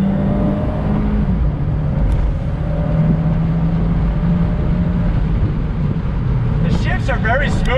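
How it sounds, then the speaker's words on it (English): A 2019 Fiat 124 Spider Abarth pulls away from a standstill under paddle-shift throttle, its engine a steady, moderately loud drone beneath continuous talk. "a little acceleration test from a dead stop using the paddles on throttle, waiting for the boost"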